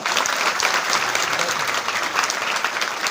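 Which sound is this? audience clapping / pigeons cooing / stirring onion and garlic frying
audience clapping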